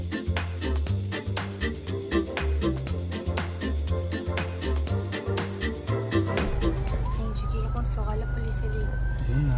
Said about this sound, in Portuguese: Acabou de ligar a sirene na nossa frente.